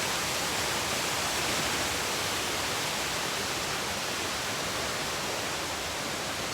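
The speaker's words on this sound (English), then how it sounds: "So that is what you call an awesome waterfall," A loud, steady roar of rushing water from a large waterfall, broadband and unbroken throughout, with no voices.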